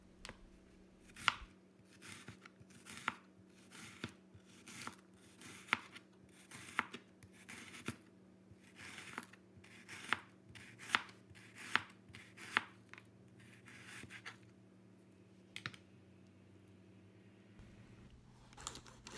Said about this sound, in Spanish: La cebolla la parto de esta manera.